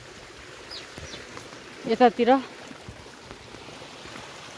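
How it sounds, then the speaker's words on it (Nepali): A cold stream flows steadily in the open air, a soft continuous rush, while birds chirp in a brief burst of calls partway through and a voice speaks briefly. "खोला सलल बगिरहेको छ"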